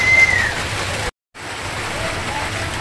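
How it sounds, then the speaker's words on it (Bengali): Light drizzle falls in a village, giving a steady, soft hiss of rain that drops out for a moment and then resumes at the same level. "এখনও বৃষ্টি হইতেছে।"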